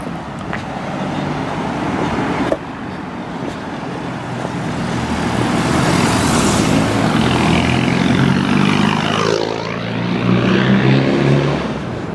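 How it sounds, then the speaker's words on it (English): A vehicle with a rough, ropey exhaust passes along a street near a Yorkshire railway station, its engine drone swelling loud and close then fading, with traffic noise around it. "Exhaust sound a bit ropey on that, doesn't it?"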